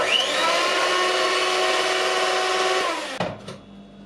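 An electric hand mixer whirs loudly and steadily through cake batter for about three seconds, then switches off with a clatter as it is set aside.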